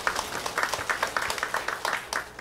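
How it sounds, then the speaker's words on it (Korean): Church congregation clapping in rhythm, a fairly quiet run of steady, evenly spaced claps in a worship hall, continuing without voices. "하나님께 영광의 박수 올려드리겠습니다"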